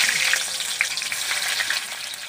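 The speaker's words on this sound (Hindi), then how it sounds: "तेल गर्म हो चुका है, अभी हम लोग प्याज दे रहे हैं" Onions hit hot oil in a pan for a Mughlai mutton curry, giving a steady, loud broadband sizzle with faint crackles throughout and no voices.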